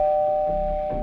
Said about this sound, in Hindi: दरवाजे की घंटी बजी।